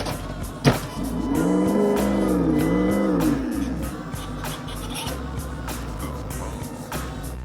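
RC car fitted with a sound kit, dual servo setup and super pumps, driving past with a sharp click, then a warbling simulated engine note that rises and falls for a couple of seconds before settling into a steadier hum.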